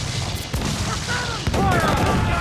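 Incoming cannon fire in an Assassin's Creed IV Black Flag naval battle lands as two heavy booms about a second apart, followed by splashes and crashing debris, while crew voices shout over the din.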